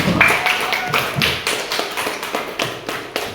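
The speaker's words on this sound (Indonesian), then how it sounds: "Berikan aplaus untuk semua." Audience clapping at a school gathering, a burst of scattered hand claps and taps that thins out into a few separate strikes, heard up close.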